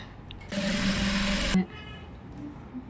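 A sewing machine stitching a gown for a girl aged six to ten whirs in one loud, even burst of about a second, then stops, leaving quiet room sound.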